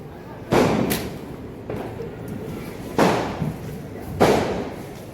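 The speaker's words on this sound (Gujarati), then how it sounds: "ઘરે પહોંચ્યા અને ફટાકડા ફોડે છે બધા" Firecrackers burst at home in four separate loud bangs spaced about a second apart, each with a short, booming decay.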